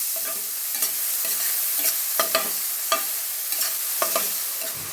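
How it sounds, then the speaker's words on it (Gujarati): Cumin seeds and asafoetida fry in hot oil in a pan, a steady close sizzle broken by repeated scraping stirs of a spoon throughout, with no voices. "જીરું તળે એટલે એમાં થોડી હિંગ નાખીશું."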